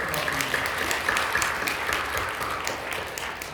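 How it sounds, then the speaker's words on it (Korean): A church congregation claps steadily in sustained applause at a New Year revival service, the dense patter holding even for a few seconds. "우리 박수로 격려해 주시죠"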